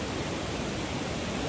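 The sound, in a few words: waterfall at Mother Falls, Baler, Philippines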